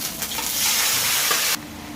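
Cumin, coriander, green chilli, ginger and tomato paste hit hot oil with a loud, continuous sizzle that swells mid-way and then drops sharply to a softer frying hiss, close by with no voices.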